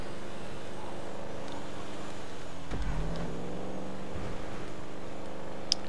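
A car engine in the video game GTA V, holding a steady, moderate drone as the vehicle speeds along, with a low thump partway through and no talk over it.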